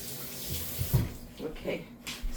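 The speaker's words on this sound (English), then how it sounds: "Now this is oregano, a type of Spanish oregano. I'm just gonna give this a rinse" Water from a kitchen tap splashes and runs while Spanish oregano is rinsed, a moderate close gush that shifts as the herbs move under the stream, with a voice present over it.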